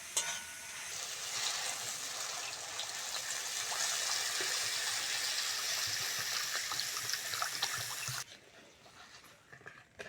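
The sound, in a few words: water being added to a pan of fried spice paste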